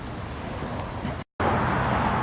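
An old Mercury Ranger truck rolls past on a road, a broad steady rumble of engine and tire noise close by, briefly cut to silence before resuming just as loud.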